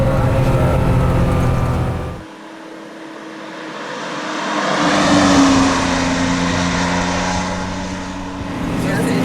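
A Porsche 914/6 mid-engine car on the move, its engine droning steadily and swelling as it accelerates, heard from inside the cabin with road and wind noise while people talk over it.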